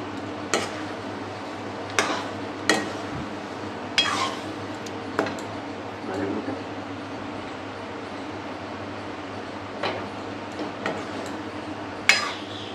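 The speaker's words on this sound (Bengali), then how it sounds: "এবার এতে ভালো করে একটু কষে নেব।" Chicken curry being stirred and fried in a pan, with intermittent metallic clinks and scrapes of a spoon against the pan over a low, steady background, with no talking.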